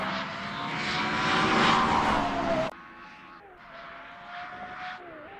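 A Porsche road car on a racing circuit, its engine screaming at high revs, loud and close with a rising whine that drops abruptly halfway through, then continues at a lower, steadier pitch.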